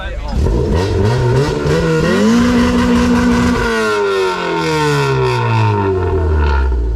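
A Honda CRX with a roughly 90-horsepower D-series engine accelerates hard, its revs climbing through gears with a brief shift drop, loud and close throughout.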